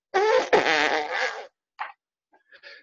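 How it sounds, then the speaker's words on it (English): A loud, close fart sound effect stands in for a leek-powered rocket lift-off, a long rippling blast lasting over a second, then a few short fading sputters and pops. "You can see them taking off there with a big cloud of leek fart."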